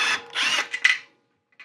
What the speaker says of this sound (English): So what I've done is I've just grabbed the socket, connected it to my drill.